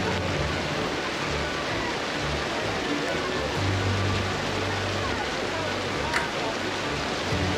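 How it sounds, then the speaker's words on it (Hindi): Heavy downpour hissing as a dense, steady roar outdoors, with a deeper rumble swelling partway through and a faint voice underneath. "और ये झमाझम बारिश।"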